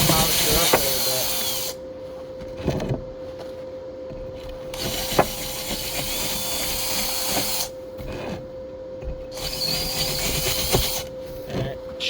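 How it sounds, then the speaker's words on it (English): A power tool polishes a flux core weld with a steady, high-pitched whine and grinding, cutting in and out in several bursts over about twelve seconds with a few sharp knocks. "I gotta polish it up a little bit."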